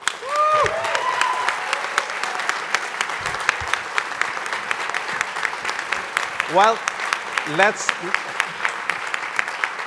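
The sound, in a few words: audience applause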